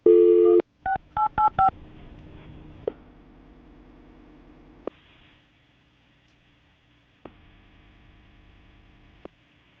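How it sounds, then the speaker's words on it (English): A phone number being punched in on a telephone keypad: a quick run of loud DTMF beeps, each tone short and distinct, followed by a quiet line with a few faint clicks. "I'm dialing the phone number right now"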